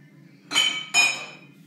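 Glassware clinks twice as a drinking glass is taken out of a cupboard, two bright, ringing chinks close to the mic about half a second apart, with quiet surroundings and no talk.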